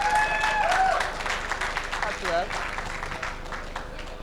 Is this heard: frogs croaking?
no